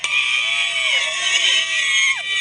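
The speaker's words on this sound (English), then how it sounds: "the screaming fans" Screaming fans at a high school football game, a loud, dense crowd of shrill overlapping shrieks and yells rising and falling continuously with no pause.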